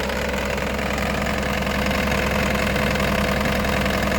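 An engine idles steadily with a low, even chugging vibration, close and continuous, with no voices over it.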